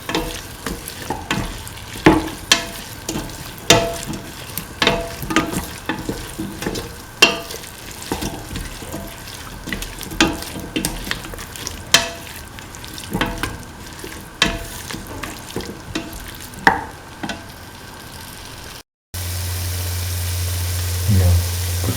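Spoon stirring a potato, green pea and coconut rice mixture in a pan, with a steady run of scraping knocks and a soft sizzle under it, close and fairly loud, ending with a brief low hum.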